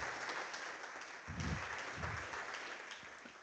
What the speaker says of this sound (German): Erstmal großen Applaus für dich